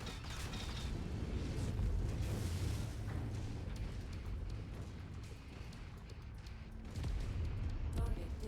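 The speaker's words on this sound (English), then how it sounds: "Ammo explosion." Ammo explosion in MechWarrior 5 heard as a dense, rumbling burst of booms and mechanical clatter that swells, eases and swells again, fairly quiet overall, with a voice speaking under it.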